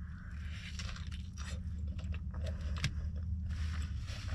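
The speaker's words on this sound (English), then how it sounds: "I like the fact that the shell, the tortilla, it's got some crunch to it." Crunchy bites and chewing of a taco cheeseburger in a crisp, non-greasy tortilla shell, heard close up as a steady run of crackly crunches and mouth sounds over a constant low background hum.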